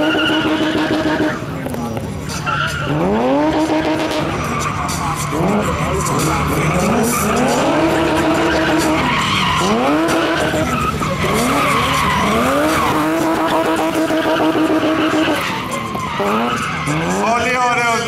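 A BMW E30 drifting around a track at a drift show, with long rising and falling tire squeals and skids over a loud, revving engine, while an announcer talks over the action.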